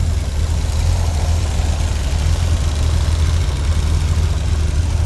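A 1971 Chevrolet Corvette Stingray with a 4-speed manual and factory AC idles, giving a steady low rumble that stays close and even throughout, with no voices.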